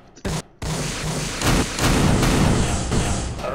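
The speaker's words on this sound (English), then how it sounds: "No, explosion." Video game explosion bursting after a short gap, a heavy booming blast followed by a sustained loud rumble of debris and gunfire-like crackle lasting several seconds.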